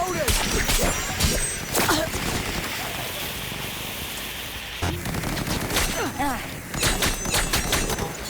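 Futuristic firearms in Cyberpunk 2077 Phantom Liberty fire in sharp bursts and volleys, with a quieter stretch in the middle before shooting picks up again, with voices now and then.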